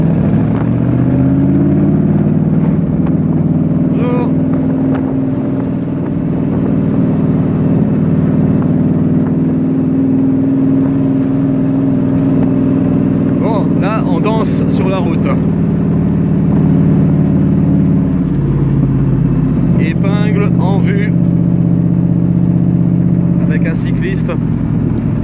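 A Shelby Cobra drives out of a village in the Drôme, its loud, deep engine drone rising in pitch as it accelerates and then holding near and steady. Brief bursts of speech break in over the roar.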